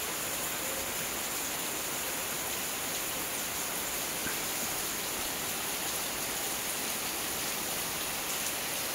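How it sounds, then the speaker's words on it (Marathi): Heavy monsoon downpour in the Konkan countryside, a dense unbroken roar of rain with rushing runoff water blended in, loud and constant with no voices. "आता इथे वरून मला दाखवतो पाऊस बघा"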